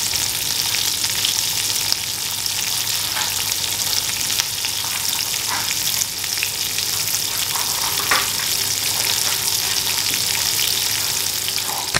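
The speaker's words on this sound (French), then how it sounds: "je vais mettre du beurre dans la poêle" Butter sizzles loudly and steadily in a hot frying pan, a dense close crackling hiss with occasional pops that continues unbroken throughout.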